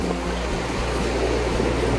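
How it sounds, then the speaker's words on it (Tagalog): Strong winter wind sweeps the Yehliu Geopark coast in Taiwan, a steady, loud, broadband roar that holds without a break and carries no speech. "sobrang lakas ng hangin dito at masyadong malamig"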